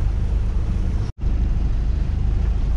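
Strong wind at sea aboard a boat buffets the microphone in a steady low roar, with a brief dropout partway through before the gusting resumes.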